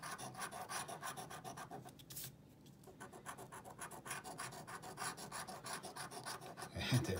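A Pennsylvania Lottery Extravaganza scratch-off ticket is scratched with steady, close, rasping strokes that run almost continuously, with one brief pause in the middle, and no talking.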